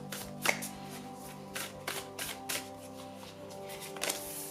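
Oracle cards being shuffled by hand, a series of crisp papery riffles and slaps in irregular bursts, close and fairly quiet, with soft handling noise between them.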